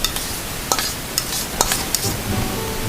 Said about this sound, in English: we're gonna just drop the vinaigrette in just like that